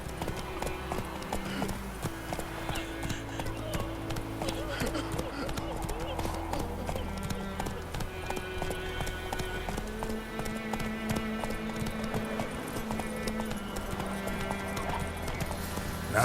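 Roach, the horse in The Witcher 3: Wild Hunt, trotting with a steady clip-clop of hooves alongside game music and a voice speaking.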